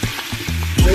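Ginger-garlic paste hits hot oil with pieces of mutton, a close, loud sizzle that swells sharply near the end as the paste goes in.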